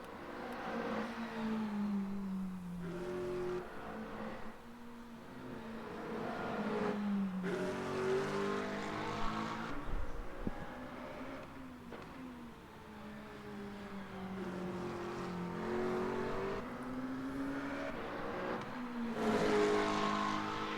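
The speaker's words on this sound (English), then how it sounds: "First, let's check the car out in motion." A GT3 race car in the Le Mans Ultimate sim howls through its gears, the engine note rising and dropping repeatedly with each shift and braking zone, loud and continuous.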